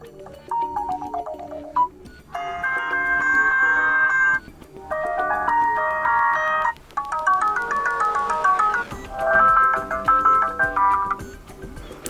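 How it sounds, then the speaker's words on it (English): Default ringtone on a DOOGEE X100 phone, a bright synthetic melody in repeating phrases with brief gaps between them, loud and clear with no talking. "In order to listen how the ringtone sounds,"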